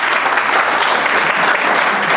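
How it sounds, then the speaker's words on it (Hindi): Students in a classroom clap together in a dense, even burst of applause, loud and close, steady throughout with no break and no voices. "ताली बजा दो भाई"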